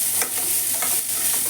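A cup of chopped onions fries in a pan with cumin, a steady close sizzle broken by soft stirring scrapes in a short burst.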